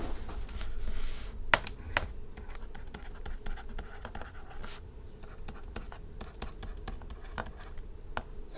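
Keys on a computer keyboard are struck in an uneven run of light, close clicks that carries on throughout against a faint room hum.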